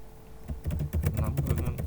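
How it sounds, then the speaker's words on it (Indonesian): Keystrokes on a computer keyboard tapping in a steady irregular run, close and moderately loud, with a faint low background hum and some soft voice-like murmur underneath. "Di sini kita ketik situasi"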